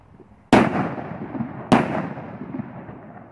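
A bulldog firecracker set off on grass at New Year bursts twice, each a sharp, loud, close bang about a second apart with a short crackling decay trailing off outdoors.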